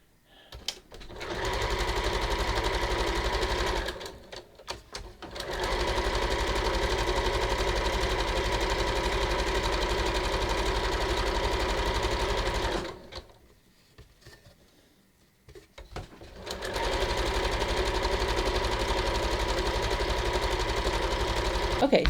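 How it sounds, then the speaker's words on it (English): A sewing machine runs zigzag stitches along swimsuit fabric for a bathing suit shelf bra, humming steadily in long bursts with two short pauses, close and fairly loud. "I think I'm just gonna zigzag this the same way."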